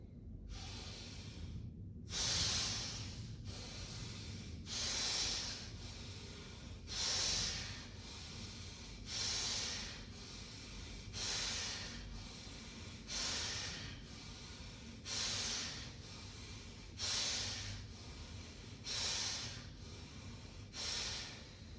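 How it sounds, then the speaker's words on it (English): Deep, forceful breathing exercise with long inhales and exhales, about ten strong rhythmic breaths close to the microphone, each a loud airy rush through the nose alone without talk. "Then inhale, exhale, deep and long breathing with force."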